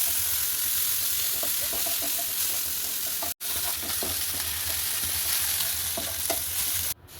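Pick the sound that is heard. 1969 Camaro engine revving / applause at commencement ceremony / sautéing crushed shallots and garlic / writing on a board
sautéing crushed shallots and garlic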